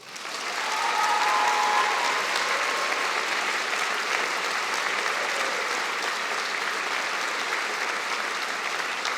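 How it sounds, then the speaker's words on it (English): A large audience at a spring 2014 university convocation applauds the graduates in a loud, dense wash of clapping that swells in the first second and holds steady to the end. "Graduates, a round of applause,"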